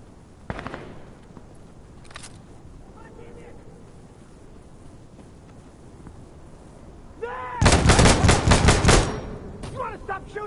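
Gunfire in the shooter game Insurgency Sandstorm: a few scattered single shots early, then a loud, fast automatic burst of several rounds near the end.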